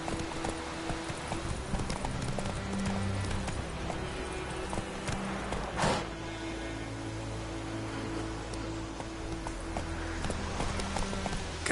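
Roach, a horse in The Witcher 3 video game, clip-clops at a steady, continuous pace on hard ground, the hoofbeats close and even throughout with a faint ambient bed beneath.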